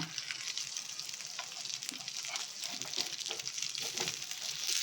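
Green masala fish fries in a pan with a steady, close, crackling sizzle that keeps going for several seconds with small spitting pops and no speech.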